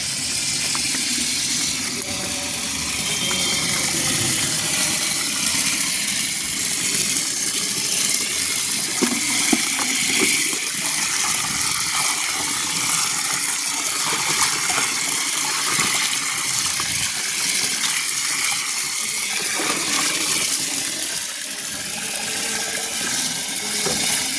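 Water pours steadily from a filled tub onto dry garden soil, a continuous broad gushing and splashing that runs close and loud without a break, with no talk over it.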